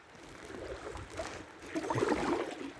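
River water rushing and churning against a tree by an island in rough water, a soft broadband wash that grows louder and busier toward the end, heard faintly from a boat.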